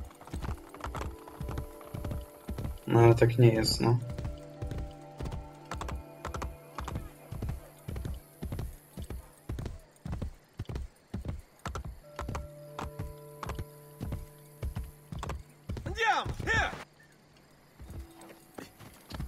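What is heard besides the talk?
horse galloping in Assassin's Creed Brotherhood video game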